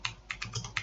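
Computer keyboard typing code, about five light, quick key clicks in an uneven rhythm, close and fairly quiet.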